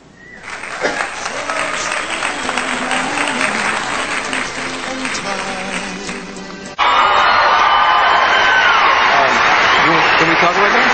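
Studio audience applause and cheering at a television interview, a loud sustained wash of clapping with whoops that rises sharply louder partway through and continues to the end.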